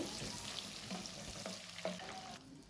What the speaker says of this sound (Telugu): ఎండు చేపలు ఉన్నాయి కదా, అవి యాడ్ చేసుకొని లైట్గా గోల్డెన్ బ్రౌన్ వచ్చేంత వరకు ఫ్రై చేసుకోవాలి